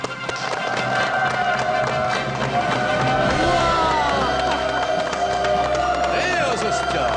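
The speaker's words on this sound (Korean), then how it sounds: "박수로 환영해 주십시오" A studio audience applauds and cheers to welcome five doctors onto a Korean TV health talk show set, a steady dense wash of clapping throughout with music and voices mixed in.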